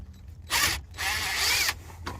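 An impact gun spins loose already-loosened bolts on a Nissan Maxima or Altima, two short bursts of high whirring and rattling separated by a brief pause, with a faint third blip at the end.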